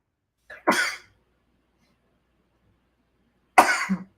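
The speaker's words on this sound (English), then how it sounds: "Excuse me, I'm going to sneeze." Two sharp sneezes, close and loud, separated by a few seconds of silence.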